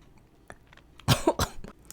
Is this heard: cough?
yes